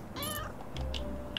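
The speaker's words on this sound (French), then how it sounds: "Il y a un autre chat là." Cat meowing in the video game Little Kitty, Big City: one short, clear meow followed by faint game ambience and small soft noises.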